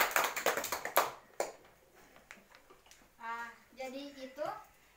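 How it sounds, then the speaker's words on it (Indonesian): Classroom applause for classmates during a school lesson: a quick burst of clapping that fades within about a second and a half, followed by a teacher speaking. "Ya, kita beri aplaus pada teman kalian semua yang telah mengikutinya."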